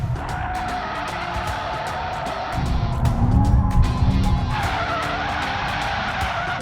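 A BMW M5 Competition with its front axle decoupled into rear-wheel-drive drift mode slides with loud, continuous tire skidding and squeal under a roaring engine. The screech surges louder midway, then holds steady, close and alone.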